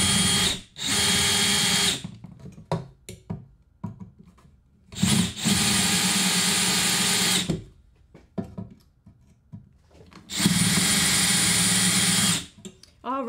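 Power drill boring out a rivet on a thrift-store mid-century phone booth, three loud, close whining bursts of about two seconds each, with clanks and handling noise in the gaps between them.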